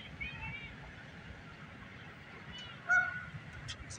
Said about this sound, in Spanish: Miren aquí los patos.